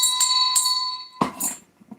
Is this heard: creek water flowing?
no